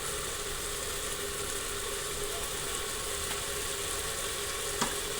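Asafoetida hits hot oil in a home kitchen pan, producing a steady, close, crackling sizzle that runs unbroken throughout with no talking.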